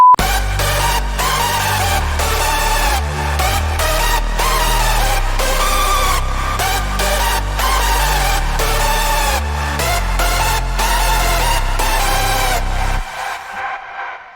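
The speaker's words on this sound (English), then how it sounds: "how to stack your layers to create like a really full hardstyle break" A full euphoric hardstyle break plays, with stacked synth layers and a thick bass line pumping in a rhythmic pattern, loud and dense, before cutting off abruptly near the end.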